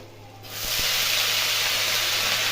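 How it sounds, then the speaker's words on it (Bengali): Chopped cabbage drops into hot oil already holding fried ginger, cooked for a festive bhog cabbage ghonto. A sudden loud, steady sizzle bursts up and holds unbroken. "কুচি করে দিয়ে দিয়ে দিলাম তেলের মধ্যে।"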